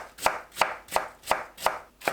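A knife chops vegetables into thin julienne strips on a cutting board, six crisp, evenly spaced strokes close up with no talking.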